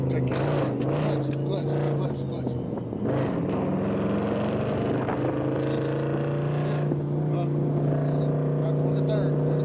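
A manual-transmission Dodge Challenger engine hums and rises as it accelerates, a steady droning rumble with shifting pitch heard from inside the car, while people talk over it.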